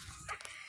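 A rabid dog in the side-scrolling video game Dan the Man gives a brief, sharp bark or yelp lasting well under a second over a low game background.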